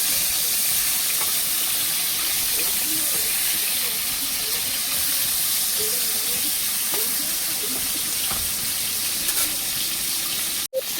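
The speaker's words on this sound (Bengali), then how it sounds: "তেলটা গরম হয়ে গেছে, মাছের মাথাটা দিয়ে দিচ্ছি, কাঁটাগুলো দিয়ে দিচ্ছি। একটু লাল লাল করে ভেজে নেব।" Fish head and bones fry in hot oil, giving a steady, close sizzling hiss that runs without a break for about eleven seconds, with a brief dropout near the end.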